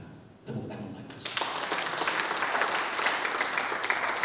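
A church congregation bursts into applause during a worship service, clapping starting sparse after a brief voice and quickly building into dense, sustained applause.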